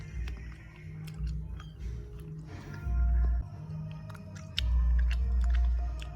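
Close, wet chewing of bubblegum, a soft smacking and squelching that repeats steadily over several seconds and sits alone without speech, under a low background rumble.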